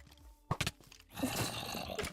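A horse in a video game whinnies in a short burst near the middle of the clip, followed by a longer, rougher neigh-like sound at moderate loudness, with no talk over it.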